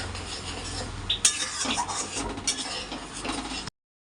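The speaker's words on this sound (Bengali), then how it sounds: "এখন এই মশলাটাকে বেশ কিছুক্ষণ ধরে আমি কষিয়ে নেব এর মধ্যে" A spice paste with Kashmiri chilli powder is stir-fried in a pan for a paneer dish, with close spatula scrapes and clinks of metal over a soft sizzle before it cuts off abruptly.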